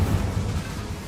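Incendio fire spell cast in Hogwarts Legacy, a continuous low, rumbling fiery roar that stays steady and fairly loud for about a second, with no voices.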